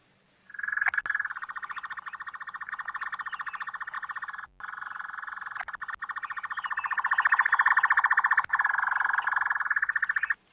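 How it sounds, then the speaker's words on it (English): A square-tailed nightjar calls in the African bush at sunset with a long, continuous, rapid churring trill that sounds like many frogs at once. It runs steadily for about ten seconds with a couple of brief breaks. "So have a listen to the square-tailed nightjar call."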